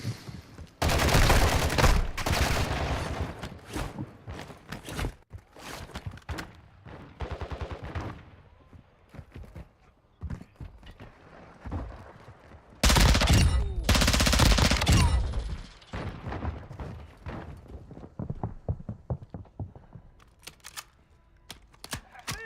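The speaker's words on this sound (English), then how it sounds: "You are taking effective fire." Heavy gunfire in Call of Duty DMZ, loud clustered bursts of automatic fire and sharp single shots, with intense volleys near the start and middle and scattered quieter shots between, no talk.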